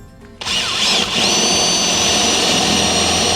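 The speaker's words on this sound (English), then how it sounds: "I'm going to drill through the floor just" A power drill bites into a campervan floor, whining up sharply after a brief quiet moment into a loud, sustained high-pitched grinding drone, close by.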